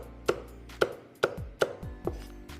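A kitchen knife smashes a scallion on a cutting board in five sharp, evenly spaced thwacks, each a crisp close impact with a short ringing tail, in a quiet kitchen with no talking.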